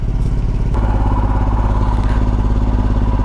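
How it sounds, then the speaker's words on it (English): A motorcycle engine runs steadily right after starting, a loud, close, even throb with a low rumbling pulse and light mechanical clatter, continuous throughout with no talking. "Well, our bike started anyway."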